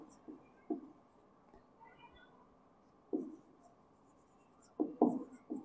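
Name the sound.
writing on a board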